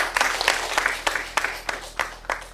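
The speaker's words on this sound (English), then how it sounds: "Please, let's give him another round of applause." Applause at a disability inclusion seminar hall, a few people clapping in an uneven, sparse rhythm of distinct claps, moderately close, with no talk over it.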